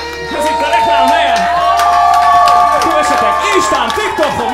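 Audience cheering, whooping and clapping fill a comedy stand-up show in Siófok, with a steady crowd roar and voices calling out over it for several seconds.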